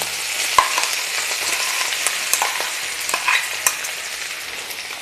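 Coarsely pounded cluster bean thecha is stirred in a pan over a medium flame. Steady close sizzling is broken by scraping stir strokes and occasional spoon taps.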